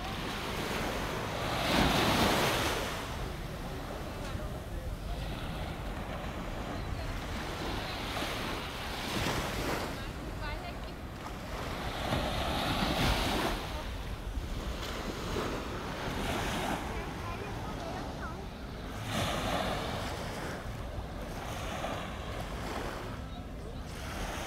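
Surf rolls in at Camboinhas beach, a continuous wash of waves swelling and fading, with wind buffeting the microphone throughout.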